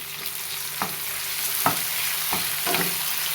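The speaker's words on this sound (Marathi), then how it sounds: "असं परतून घेऊया" Chopped onion and tomato sauté in hot oil for a village-style egg curry, giving a steady close sizzle broken by a few sharp stirring clicks against the pan.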